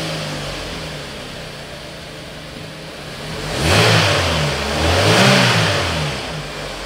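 A Chevrolet Cruze 1.8 engine with its catalytic converter removed idles, then revs up twice in quick succession, each rise swelling into a louder roar before dropping back to a steady idle.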